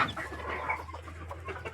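A backyard hen clucks repeatedly in short, close, uneven calls over a low steady hum, with no voices.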